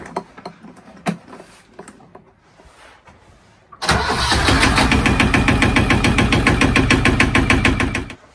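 A few clicks and knocks, then an inboard engine on a 20-foot catamaran cranks and catches at once, settling into a loud, rapid, rhythmic running rumble close by.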